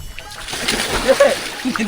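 People bathing and splashing in water together, with sloshing and splatters coming close and fairly loud throughout, mixed with voices talking over the activity.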